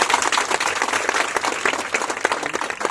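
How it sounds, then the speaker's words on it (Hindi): A live crowd at a comedy performance applauds loudly, a dense, continuous wash of clapping from many hands filling the space without any voice over it. "तालियां कमजोर है तुम्हारी।"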